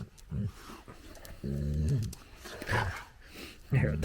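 A dog in a home workshop growls and grumbles in short throaty bursts with pauses between them, close by and fairly quiet.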